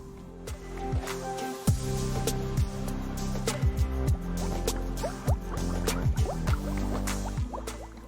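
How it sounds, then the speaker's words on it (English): Nitrogen gas is sparged through a diluted wine sample, a continuous bubbling with rapid gurgles and wet popping drips, close and lively, with uneven bursts throughout and no talking. "the sample is then sparged with nitrogen"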